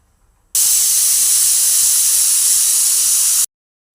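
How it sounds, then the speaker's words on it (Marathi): A pressure cooker whistle venting steam while taro cooks: one loud, steady, close hiss that starts abruptly, holds for about three seconds and cuts off sharply, with no voices. "आता आपण झाकण लावून पाच ते सहा शिट्या करून घेऊया"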